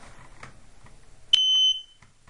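A home smoke detector gives one sharp, high chirp that rings for about half a second, close by in an otherwise quiet room.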